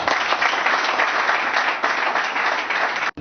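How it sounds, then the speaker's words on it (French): Dense, loud applause from a large crowd at a political rally in Kinshasa honoring the elected president of the Democratic Republic of Congo, steady and sustained for about three seconds before cutting off abruptly. "Ça demande quand même vos acclamations."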